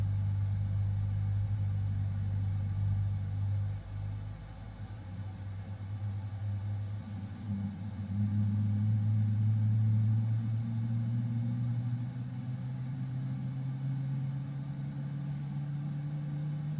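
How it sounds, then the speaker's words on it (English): Steady loud jet engine drone of a Boeing 777-300ER in Microsoft Flight Simulator 2024, a deep continuous rumble with a low tone slowly rising in pitch as the engines spool up, alone with no voices. "Beautiful engine noise."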